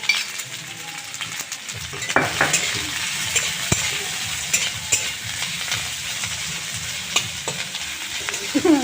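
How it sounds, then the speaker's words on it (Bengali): Rice fries in a pan with onion, garlic and green chilli, a steady sizzle under repeated stirring and scraping with a metal utensil, with occasional sharp clinks against the pan throughout. "এখন ভাতগুলো ভাজছে"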